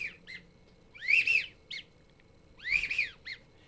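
Two sweeping whistled calls imitating a widgeon drake duck, each a bright rising-falling warble with short chirps between, blown in a hunting blind over a faint low background.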